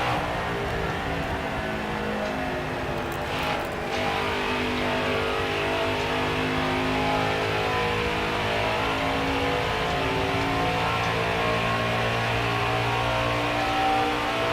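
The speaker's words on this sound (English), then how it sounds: "He's just letting these trucks go by." Racing trucks in the NASCAR Heat 5 Gander Truck Series at Homestead-Miami drone past with a steady, loud, layered engine whine, constant throughout with no talk.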